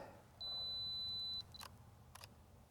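Fujifilm X-T3 mirrorless camera fires after a 2-second self-timer, a steady beep running about a second, then two quick crisp shutter clicks, close and fairly quiet, no talking.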